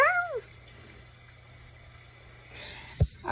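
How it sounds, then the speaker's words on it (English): A house cat gives a short meow at the start, close and clear, followed by quiet room hum and a brief thump near the end. "my cat is here."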